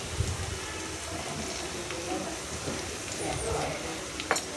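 Onion frying in oil in a pan for a bhurji made from curdled milk, a steady low sizzle running throughout with faint stirring scrapes and a few brief clicks, close and moderately quiet.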